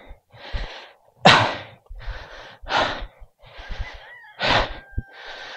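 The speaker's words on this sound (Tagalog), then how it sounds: "Grabe hingal ko." Heavy, ragged panting from exertion during a fishing trip in the Maragundon sanctuary, with a run of loud, close breaths and gasps in uneven bursts and brief pauses between them.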